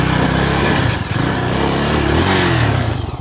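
On a solo off-road ride toward Vagamon's Uluppuni hilltop, a motorcycle engine drones loudly and close, its rough, throbbing note dipping briefly and then pulling on steadily across rough ground.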